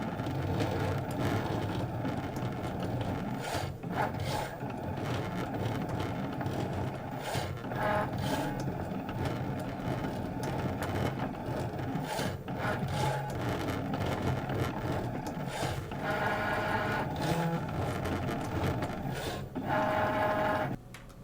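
A Cricut Maker engraves acrylic with a continuous mechanical whir and rattle, broken by frequent short clicks and taps as the tool moves. The sound is moderately quiet and steady, with no one speaking.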